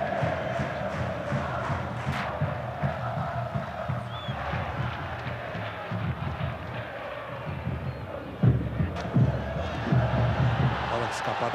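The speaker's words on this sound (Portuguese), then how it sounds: "torcida do Flamengo tomou conta aqui do Canindé" Flamengo supporters roar and chant throughout a Brazilian league stadium at Canindé, a dense, steady crowd wash with a few louder swells, under continuous commentary.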